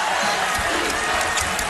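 Basketball arena crowd at a Mountain West Conference women's tournament game between Wyoming and San Diego State, a dense steady roar of cheering fans on their feet, loud and continuous with no break.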